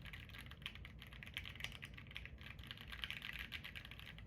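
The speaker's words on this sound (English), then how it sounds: "Some keyboard ASMR." Steady, close typing on a handmade computer keyboard, its rapid clicks and clacks running unbroken with no voices over them.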